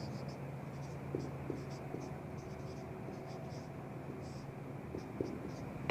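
Chalk or a marker scratching the area formula onto a board, heard as short faint repeated strokes over a steady noisy background hum.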